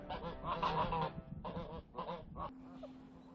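Geese on a farm honk loudly and close by in several bursts of nasal calls, with brief pauses between them and a faint steady hum underneath at the end.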